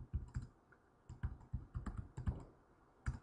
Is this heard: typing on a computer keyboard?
yes